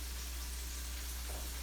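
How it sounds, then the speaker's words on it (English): Cubed tofu sizzles in melted margarine in a frying pan for a tofu scramble, a soft, steady crackle held at low level throughout, with no talk over it. "I'm gonna let it sizzle a little bit in the margarine in the pan"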